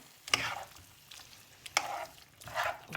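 Tomato sauce stewing in a pan for chanakhi sizzles while a spoon scrapes and stirs it in short bursts. There are pauses between the strokes, and no one speaks.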